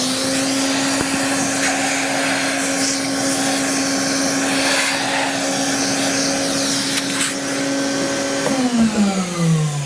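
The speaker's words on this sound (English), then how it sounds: "I'm going to vacuum up a little bit." A vacuum cleaner runs steadily and loud while tidying up during the fuselage assembly of a CCM Liberty F5J RC glider, its motor hum holding a constant pitch before winding down near the end.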